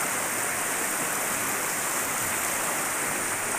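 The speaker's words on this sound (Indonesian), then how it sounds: "Ini Sungai Cidikitnya nih." The Cidikit river flows beneath a bridge, a dense, unbroken rushing roar of water that stays constant and fairly loud throughout, with no voices.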